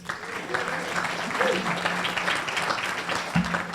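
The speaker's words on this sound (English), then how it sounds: "Please give him a round of applause." Audience at a Tiger Bay Club forum applauding as a speaker is introduced, a sustained wash of clapping with some murmuring and talk mixed underneath throughout.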